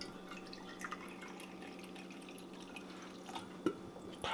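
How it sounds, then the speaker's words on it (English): Liquor trickles and drips as shots are poured, faint and close, with small splashes and a brief clink amid quiet room tone, no talk. "Oh my god, pour some shots, Jinsu."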